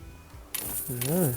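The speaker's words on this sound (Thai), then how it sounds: "เก็บเหรียญไปซื้อของดีกว่า" A bright metallic coin-pickup chime from PUBG Mobile rings out, followed by a rising and falling electronic tone, over faint background sounds.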